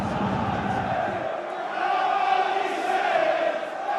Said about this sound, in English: The home crowd get behind their side